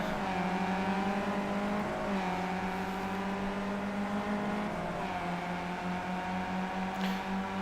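A race car on the VIR Grand West circuit, engine droning steadily from inside the cockpit with rising pitch as it accelerates onto the back straight, with short shifts between gears, loud and continuous.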